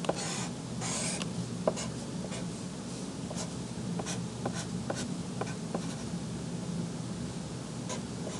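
A pencil scratches on paper during a calculus lesson, with short dry strokes and taps in an irregular rhythm, close and fairly quiet over a faint room hiss, with no talking.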